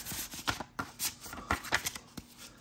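A trading card slides into a paper envelope, giving a quick series of soft papery rustles and light taps, close and quiet, with no talking.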